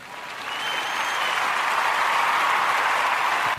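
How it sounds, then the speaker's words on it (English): Applause sound effect: a dense, steady round of clapping from a crowd that builds quickly, holds loud and even for several seconds, then cuts off abruptly, with no talking over it. "Just some applause."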